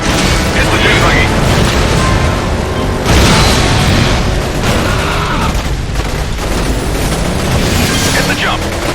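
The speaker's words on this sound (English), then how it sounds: "Pass close to explosions." Explosions in the video game Stuntman Ignition, a series of loud booming blasts and rumbling bursts over continuous stunt-driving action, with a voice speaking over the noise.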